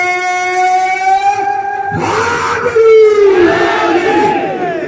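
A crowd at a Karbala sermon gathering chants loud slogans praising Ali; one sustained voice leads, then many voices surge together in a dense, roaring chorus.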